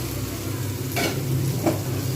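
Fresh pumpkin pieces frying in their own released water in a pan, with a continuous close sizzle and two brief scraping strokes of a spatula as the pumpkin is stirred.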